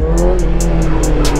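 A QJ Motor 600RR inline-four 600cc motorcycle engine runs loud and close with a steady, rich hum and bright periodic bursts, with no talking.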